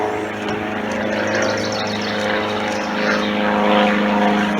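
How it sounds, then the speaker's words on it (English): Propeller biplane drones overhead, a loud continuous engine hum that swells slightly and holds steady throughout, with no talking. "Excuse the biplane going overhead."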